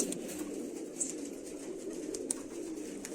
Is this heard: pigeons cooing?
yes